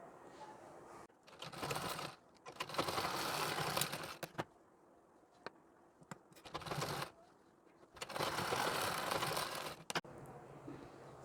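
A sewing machine stitches a blouse in several separate runs, each a steady rapid mechanical whir lasting a second or two, separated by quiet pauses with small clicks, close and alone.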